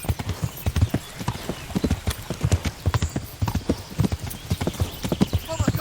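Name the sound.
horse galloping hooves in Kingdom Come Deliverance video game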